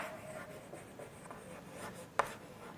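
A pen scratches softly across paper in a quiet room, a faint continuous scribbling with a single sharp tap near the end.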